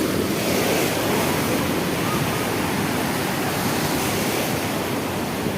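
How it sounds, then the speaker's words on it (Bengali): Large sea waves crash and roar continuously on a busy tourist beach at Digha Mohana, a dense, steady wash of surf with wind buffeting the microphone and no voices heard. "ঢেউগুলো আসছে, খুব মারাত্মক ঢেউ,"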